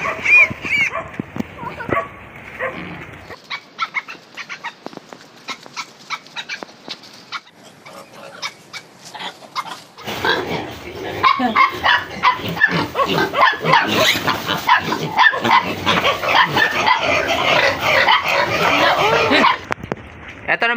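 Puppies bark, yip and whimper on a backyard pig farm. The yelps come in loud, irregular bursts near the microphone, heaviest in the second half, with pig grunts and people talking mixed in.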